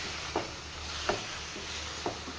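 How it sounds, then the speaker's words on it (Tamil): Beef varatti frying in a pan, a steady soft sizzle with three evenly spaced scraping stirs of a spoon, close and fairly quiet. "நல்லா கிளறி விட்டுட்டே இருக்கணும் அடி பிடிக்காமல் நல்லா வத்தணும்"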